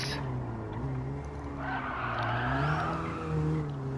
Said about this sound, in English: Really stand on the brakes